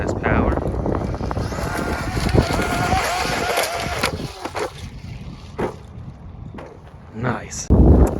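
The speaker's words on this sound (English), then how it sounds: "Bit of a high-speed pass on the full 6S power." A Traxxas Maxx Slash RC truck makes a high-speed pass on full 6S power, its electric motor whine rising and sweeping past, then fading under gusty wind noise, with a brief knock at the end.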